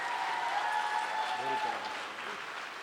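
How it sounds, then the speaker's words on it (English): An audience claps steadily after a solo at an Arangetram classical dance performance. Sustained applause fills the hall, with a voice speaking faintly over it. "Please give her another round of applause."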